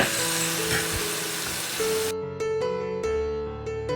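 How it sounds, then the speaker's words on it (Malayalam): Ground onion paste dropped into spices frying for egg chana masala: a loud, even sizzle, then a run of sharp stirring knocks against the pan as the hiss dies down. "ഈ ഒരു സമയം നമ്മൾ സവാള അരച്ച് വെച്ചത് അങ്ങ് ചേർത്ത് കൊടുക്കാം. ഇനി ഒന്ന് ഇളക്കി കൊടുക്കാം."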